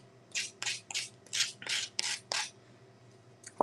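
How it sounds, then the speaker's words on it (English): Small hand-held gator sander rubbing a sandpaper strip back and forth, about eight quiet rhythmic rasping strokes, close and faint with no talk. "like this little gator sander"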